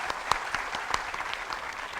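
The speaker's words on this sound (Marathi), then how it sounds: "त्यांच्यासाठी पण आपण एकदा जोरदार टाळ्या वाजवूया." An audience claps in a live podcast setting, a steady burst of applause with distinct individual claps standing out, moderately loud and alone without talk.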